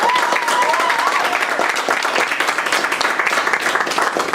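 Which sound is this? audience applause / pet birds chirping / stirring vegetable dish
audience applause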